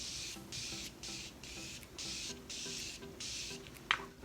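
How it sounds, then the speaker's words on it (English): Morphe Continuous Setting Spray misted from a pump bottle in a series of about seven short, soft hissing bursts in a steady rhythm, close and quiet, with no talking. "I'm going to take my Morphe Continuous Setting Spray to finish the look."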